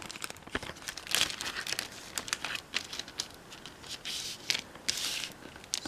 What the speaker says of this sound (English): and place it in the plastic baggie.